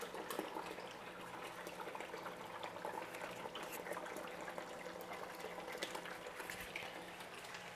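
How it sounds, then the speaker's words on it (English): Dirty water is poured out of a container during gold panning, a steady soft splashing and trickling flow with no talk over it. "Pour some of this dirty water out here."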